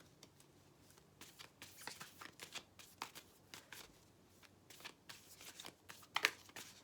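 Tarot cards are shuffled close up at low volume, with a soft, steady run of papery riffles and flicks and one slightly sharper snap near the end.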